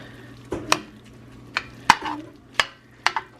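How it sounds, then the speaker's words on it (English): Spoon stirring barbecue sauce ingredients in a pot in a country kitchen, giving a handful of separate scraping, knocking clinks at an uneven pace, close and fairly quiet. "Oh yeah, okay, just stirring it up."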